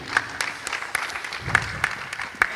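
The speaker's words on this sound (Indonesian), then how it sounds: "Mungkin bisa minta tepuk tangannya juga." Audience applause at an Indonesian panel session on funding climate-crisis solutions, a steady patter of many hands with sharper individual claps standing out, fairly close and continuous throughout.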